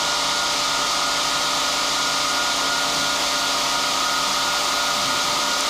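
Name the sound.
cooling fan blowing on transmitter spark contacts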